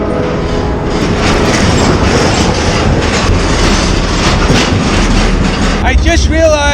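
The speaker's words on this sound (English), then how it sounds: "Train right here." A freight train rolls through a rail yard with a loud, steady rumble and rattling clatter of cars, ending in a brief squeal, while a voice is heard at moments.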